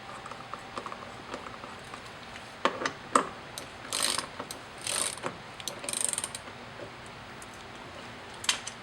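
A ratchet snugs an engine mount insert bolt fitted with large and small washers, giving quiet, close clicking strokes in uneven short runs against faint background hiss.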